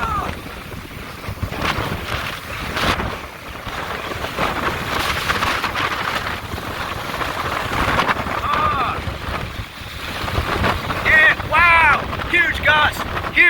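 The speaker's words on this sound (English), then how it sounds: "gust, huge gust." Strong hurricane wind gusts on Dauphin Island, Alabama during Hurricane Sally, loud continuous rushing and buffeting against the microphone, with people talking excitedly over the roar.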